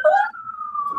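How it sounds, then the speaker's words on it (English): A siren wails outdoors, one clear, loud tone that starts high and then holds a long, slowly falling pitch, with no talking over it. "The sirens are going"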